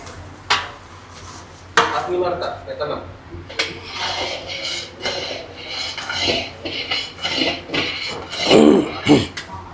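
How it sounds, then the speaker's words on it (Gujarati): Dry-roasted ingredients stirred into jaggery in a pan for a winter sweet, with steady close scraping, clinking and knocking of a spoon against metal throughout, while a person talks over it. "આજે ડ્રાય રોસ્ટ કર્યું બધું આ ગોળમાં મિક્સ કરશું"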